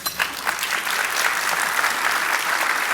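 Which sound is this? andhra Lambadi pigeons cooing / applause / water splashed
applause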